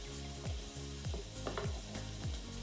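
Pancetta frying in a pan for pappardelle carbonara, a steady close sizzle with soft rhythmic stirring or scraping strokes repeating about every half second.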